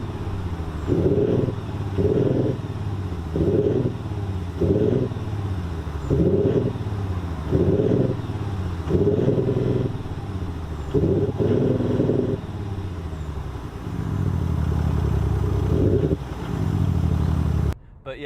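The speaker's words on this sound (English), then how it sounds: "Audi have managed to synthesize some noise anyway. And to be fair, it sounds just as good as an RS" A 2020 Audi S5 Sportback diesel with a synthesized engine sound revs in repeated rhythmic pulses, each climbing then dropping, heard close inside the car. A final longer sustained drone ends abruptly.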